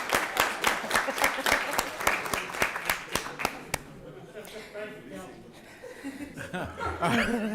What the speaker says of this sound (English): So we want to give a round of applause and a standing ovation to Fayetteville State University's athletics